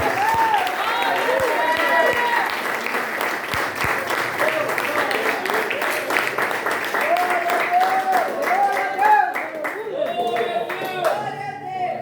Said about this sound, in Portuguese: Vamos dar uma salva de palmas a ele, ao dono dessa obra.